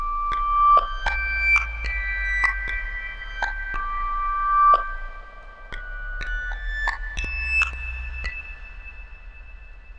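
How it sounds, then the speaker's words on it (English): Time-stretched, sampled guitar harmonics ring out as bell-like tones from a software sampler, with soft plucked attacks and long sustained overtones under a low synthetic hum, unhurried and spacious with no voices. "a recording using a sampled sound of a harmonics played on various strings of the guitar"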